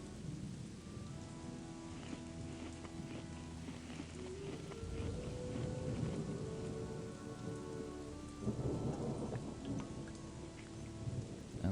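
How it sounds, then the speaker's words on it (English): Steady rain patters and rumbling thunder rolls through a stormy scene in the video game The Chronicles of Myrtana: Archolos, a continuous wash of rainfall with deep thunder swelling underneath and no voices. "why did it just start raining out of nowhere?"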